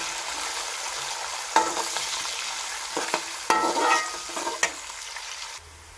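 Onions fry to golden brown in a pan, a continuous close sizzle broken by several sharp spatula scrapes and knocks, the hiss ending abruptly just before the end.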